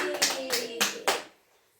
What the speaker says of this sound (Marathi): मग आम्ही अशा टाळ्या वाजवणार.